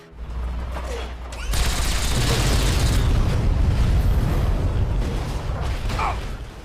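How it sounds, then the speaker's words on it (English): Liberty Prime, a giant robot in a video game, hurls nukes that set off continuous heavy explosions, a deep rumbling roar that swells after a low opening and stays loud throughout, with no talking. "In addition to throwing nukes like they're softballs, Liberty Prime also shoots laser beams out of her eyes."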